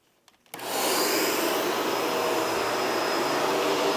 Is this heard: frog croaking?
no